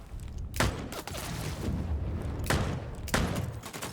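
A purple revolver in Bloodhunt fires three sharp, loud single shots spaced irregularly over a continuous rumbling game ambience.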